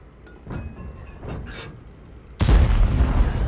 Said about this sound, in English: Now you can see me here scoring some nice little snipe shots here.